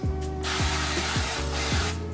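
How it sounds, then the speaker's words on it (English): Cooking oil spray, an olive-oil-style spray, is misted into a pan before cooking steak, with short hissing bursts over a repeating mechanical whir in the background. "I spray the pan with this olive oil"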